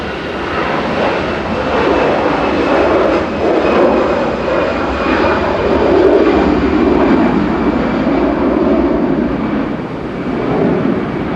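An Iberia airliner bound for Madrid takes off from runway 05 left at Manchester Airport, a loud sustained jet engine roar swelling and easing slightly, with no voices.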